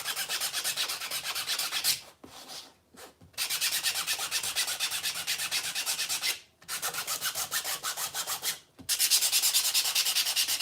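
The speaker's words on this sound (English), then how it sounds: "Just give it a light sand." Hand sanding of gaff tape and wood for a puppet mouth: steady, close, raspy back-and-forth scrubbing strokes in long runs, broken by a few brief pauses, with no voices.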